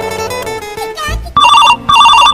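A mobile phone rings with an incoming call, its bright repeating electronic ring arriving in two loud bursts after a stretch of louder, mixed sound at the start.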